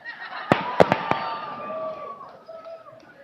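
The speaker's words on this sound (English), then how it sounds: "which is where the explosions are coming right now" Fireworks burst over a stadium at a high school graduation, giving several sharp, loud bangs in quick succession at about half a second to just past a second. Fainter crackles and whistling tails fade out afterward.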